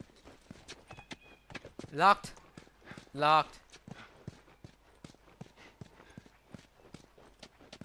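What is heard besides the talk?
horse hooves clip-clopping in The Last of Us video game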